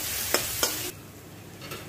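Onions fry in a pan for chicken kosa, sizzling loudly while a spoon scrapes and stirs them in two quick strokes before the sizzle drops to a quieter hiss.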